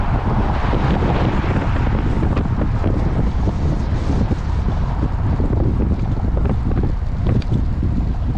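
Strong wind roars and buffets a microphone while cycling outdoors, a loud continuous rumbling gust noise with no clear breaks, no speech.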